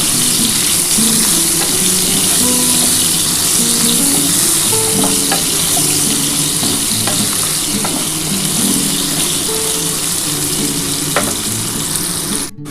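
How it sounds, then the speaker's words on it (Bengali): Potato pieces fry in hot oil in a pan, giving a loud, steady sizzle with occasional stirring clicks and no voices. "আলুটা লাল লাল করে ভাজা হয়ে গেছে"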